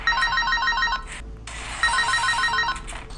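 A phone ringtone sounds loud and close for an incoming call, a repeating melodic tone pattern in two bursts separated by a short pause, with no talk over it.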